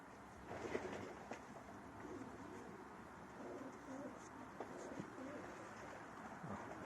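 Young racing pigeons coo softly at a distance, low murmuring calls repeating over a steady background hiss.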